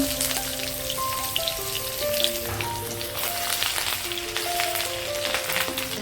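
Grated ginger and chopped garlic sizzle steadily in hot oil over a lowered gas flame, a dense continuous crackle with no talk.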